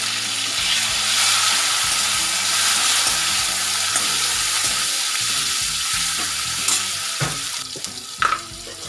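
Green chillies and tomato sizzling steadily in a pan of hot oil as a Gujarati carrot and capsicum curry is cooked, a close, continuous frying hiss with light stirring scrapes and a few sharper clicks near the end.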